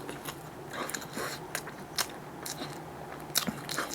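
Crunchy bites and chewing of a mini corn dog with a chewy glutinous-rice bun and ham inside, dipped in ketchup; close, moderately quiet crackles and crunches at an irregular pace with no talking.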